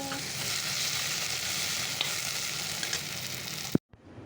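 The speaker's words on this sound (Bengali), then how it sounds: "তো একটু ভাজা ভাজা করে নিই তারপরে একটু জল দিয়ে দেবো" Spices fry in a pan over a gas flame with a steady, close sizzle and faint stirring scrapes, ending in a sharp clatter before the sound cuts out.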